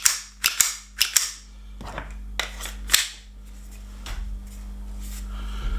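An officially licensed Glock 17 BB pistol fires several sharp, snappy shots close to the microphone, some spaced apart and some in quick pairs, with faint handling clicks and a low hum between them.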